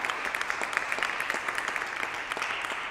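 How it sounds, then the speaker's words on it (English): Audience applause at a jazz vespers concert, steady crowded clapping held at an even level throughout, close and continuous with no talk. "Can we give another round of applause?"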